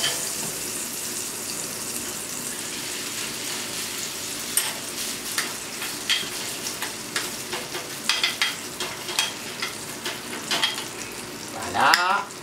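Potato rösti patties frying in hot butter in a pan, a loud, dense sizzle and crackle throughout with scattered pops and a utensil scraping near the end.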